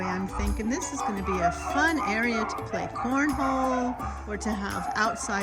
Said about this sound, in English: I know you can hear the dogs.